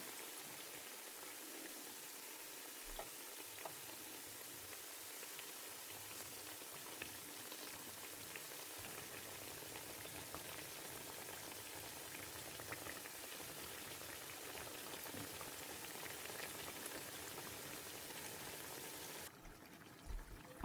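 Rice flour vadas deep-frying in hot oil give a steady, even bubbling hiss that runs unbroken and moderately quiet, with a few faint clicks near the end.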